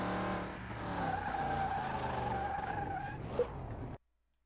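In the game Car Mechanic Simulator 2021, a car brakes hard with a long, loud tyre skid and engine whine lasting several seconds before cutting off abruptly to silence.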